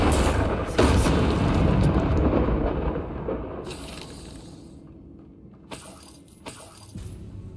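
An Incendio fire spell cast in Hogwarts Legacy, near a pile of bones by a sarcophagus: a loud whooshing burst of flame that roars and slowly fades, followed by a few fainter clattering hits.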